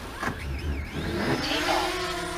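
A DJI Mavic Mini drone spinning up its motors for an automatic takeoff on a calm, freezing night, a rising whine that climbs in pitch and steadies, close by with no talk.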